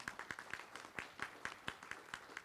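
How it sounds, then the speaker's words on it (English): Quiet, scattered clapping from a small audience at a meet and greet at Sun Lakes Country Club, about a dozen distinct claps in a steady, sparse rhythm, faint and distant. "If we can give them a round of applause."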